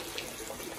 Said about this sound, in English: So I'm now refilling the tank.